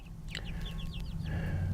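Chickens clucking inside a wheeled chicken tractor, a series of short close clucks and calls over a low steady background hum.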